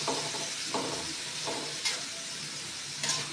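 Chicken is sautéed with ginger, garlic, tomato and onion for sinampalukang manok, giving a steady close sizzle and hiss broken by several sharp stirring scrapes and clinks of the spatula on the pan, with no talk.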